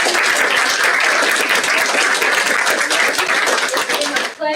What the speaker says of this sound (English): let's give all of our participants and all of our pitchers a big round of applause.